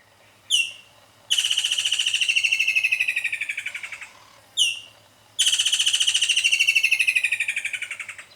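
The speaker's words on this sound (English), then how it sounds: "obviously you have the famous woodlands kingfisher" Two loud woodland kingfisher calls, each opening with a sharp note followed by a long descending trill of rapid repeated notes, with a pause between them, in South African summer.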